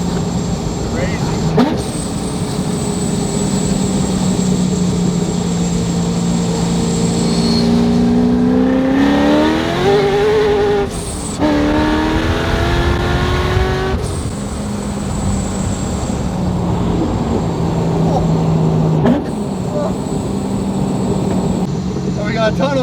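A loud C6 Corvette drives on the road with a deep, close exhaust drone, climbing and falling in pitch as it accelerates and shifts over a sustained stretch, with a brief gap mid-run.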